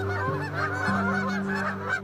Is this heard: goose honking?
yes